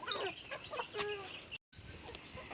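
Chickens cluck and call nearby in a busy, overlapping chatter, briefly cutting out for a moment before resuming.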